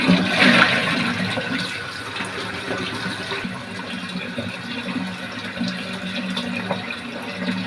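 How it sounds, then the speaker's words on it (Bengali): Pointed gourds being washed in water in a kitchen, with continuous running and splashing water that is fairly close and even, with no talking. "এখন আবারও পটলগুলো ধুয়ে নেব।"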